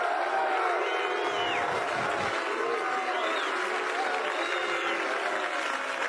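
Golf gallery at the 2017 US Open final round applauding and cheering Matt Kuchar's putt: dense, steady clapping and crowd roar throughout, with whoops rising above it and distant commentators' voices faintly under the noise.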